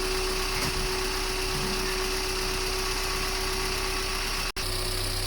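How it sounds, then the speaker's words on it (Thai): A car engine idles with the air conditioning compressor running, a steady, even drone with a constant tonal hum and a brief dropout near the end. "ปล่อยเดินเบาอยู่"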